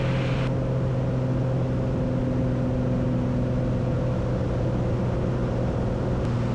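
A small propeller aircraft engine drones steadily and loudly from close inside the cabin, a constant humming roar that holds even throughout.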